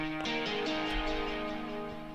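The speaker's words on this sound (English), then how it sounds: "Then I actually got a guitar one shot, and it sounds like this." A short plucked guitar phrase, a few notes struck in sequence and left ringing, quiet and alone without any talking.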